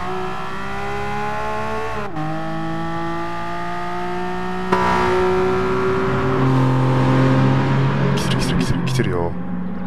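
Porsche race car in Gran Turismo revving hard, a steady engine drone rising and falling in pitch as it accelerates and shifts through gears, with a brief tire squeal near the end and people talking over it.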